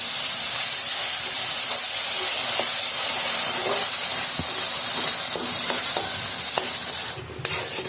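Milk hits semolina roasting in ghee and sugar, setting off a loud, continuous hissing sizzle with bursts of steam and stirring clinks, close and steady with no talk, easing slightly near the end.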